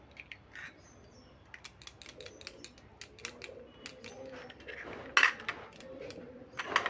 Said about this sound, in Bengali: এবার এই চামচে করে সব উপকরণগুলো আমি ভালো করে মিশিয়ে নিচ্ছি।